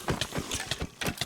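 Horse hooves clip-clopping in the Minecraft video game, a steady run of about ten evenly spaced hoofbeats with a sharp, close, fairly loud sound and no talking over them.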